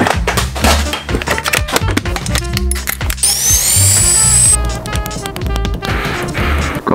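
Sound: electric drill

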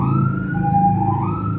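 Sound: ambulance siren passing

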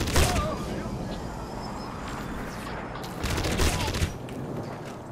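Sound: gunfire from weapons in the video game Crysis

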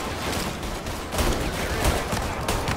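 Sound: gunfire in the video game Mafia Definitive Edition

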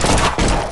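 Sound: gunshot in a cowboy shooting video game

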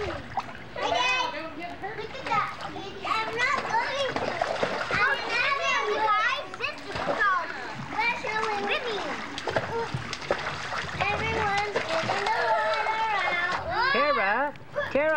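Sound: child splashing in a swimming pool

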